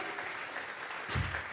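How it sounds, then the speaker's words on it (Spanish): A church congregation applauds during a Sunday service, a dense wash of clapping that swells briefly toward the end of a short burst. "vamos a darle una ofrenda de palmas al Dios de la gloria"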